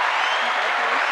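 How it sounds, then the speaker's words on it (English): Studio audience applause rises in a steady, dense wash of clapping that fills the whole moment at even loudness. "Let's give him a round of applause for that."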